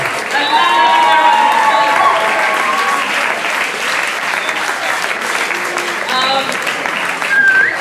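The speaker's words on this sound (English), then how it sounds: "Another round of applause." Audience applause at a spoken word open mic night in Rwanda, a loud, sustained clapping with scattered cheers that fills the room throughout and swells again near the end.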